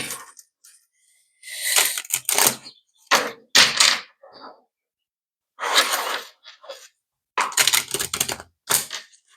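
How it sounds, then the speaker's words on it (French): Oracle cards being shuffled by hand: short, crisp riffling and slapping bursts separated by silent pauses, close and fairly loud. "j'essaye de mélanger comme je peux"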